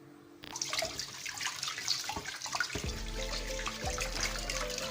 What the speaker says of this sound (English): make sure to wash well our octopus